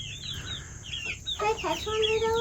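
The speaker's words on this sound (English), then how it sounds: "Here's our chickens." Chickens cluck and call inside a backyard coop holding fourteen birds, close and clear, a few overlapping clucks rising toward the end.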